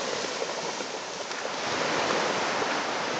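Steady broadband wash of waves and moving water at Cabrera Beach, continuous and fairly close, with no voices over it.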